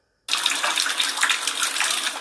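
Water gushes out of pipes in a student housing building, starting abruptly and continuing as a loud, steady, hissing rush close by.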